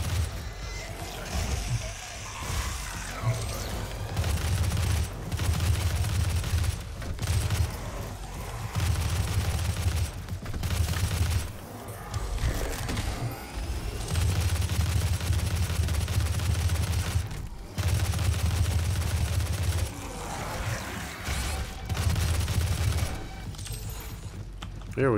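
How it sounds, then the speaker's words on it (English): Gunfire and rocket blasts from enemies in the video game Doom, rapid repeated bursts of shooting and explosions pulsing through a loud, busy mix for most of the stretch, with a voice talking at times. "Stop shooting rockets at me."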